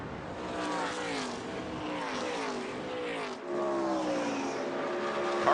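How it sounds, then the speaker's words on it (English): Stock cars racing in an ARCA Menards Series race at Rockingham, a continuous loud engine roar with shifting pitch as cars pass and rev, briefly dipping then swelling again as another car comes by. "Isaac right now on the charge, starting to reel in Carson Brown and maybe give us a battle here for the 2nd position."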